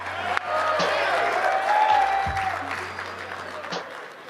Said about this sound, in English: give them a big round of applause for everything they do for you guys